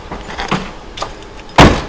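Car keys jangle in a few short metallic bursts, close and fairly loud, followed by a sharper louder clatter near the end, with no talking.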